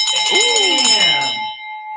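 A deal bell rung to celebrate a closed real estate wholesaling deal, one bright metallic strike ringing out and slowly decaying over about two seconds, close and loud.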